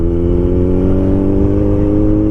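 Suzuki Hayabusa 1300cc motorcycle engine at speed, a loud, steady, close-up drone with a strong low hum and wind rushing throughout.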